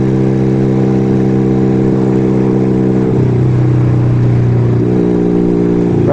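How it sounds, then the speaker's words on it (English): A loud motorcycle cruising on a highway, its engine droning steadily up close with pitch shifts as the rider changes speed, wind noise beneath and no voices. "Man, my bike sounds extra loud today."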